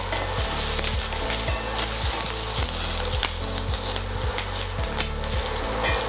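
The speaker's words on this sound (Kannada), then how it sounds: "ಆನಿಯನ್ನು ಕ್ಯಾಪ್ಸಿಕಮ್ಮು ಚೆನ್ನಾಗಿ ಫ್ರೈ ಆದಮೇಲೆ" Onion and capsicum frying in a pan for chilli paneer, a loud, close sizzle broken by a regular run of knocking stirs or scrapes of a utensil against the pan, with nobody speaking.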